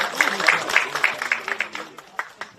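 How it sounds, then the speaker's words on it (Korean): A group claps together in a fairly even rhythm at a political party caucus meeting, the sharp hand claps fading slightly toward the end, with a murmur of voices beneath. "박수 보내주세요"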